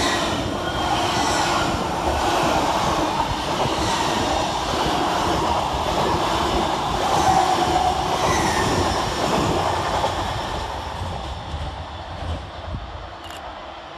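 LNER train 801222 running through Bowes Park station on the East Coast Main Line, a loud rushing rumble of wheels on rails, with a brief squeal midway before the noise fades away.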